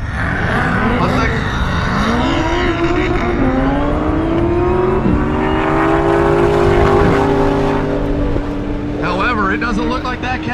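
A Lamborghini Huracan and a twin-turbocharged V10 Cadillac CTS-V drag race, their engines revving up through rising, sweeping gear pulls close by, loud and layered, with a voice talking over the start.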